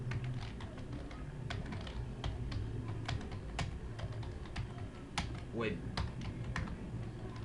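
Typing on a computer keyboard while entering a page title in HTML code: irregular sharp key clicks, close and fairly quiet, under someone speaking.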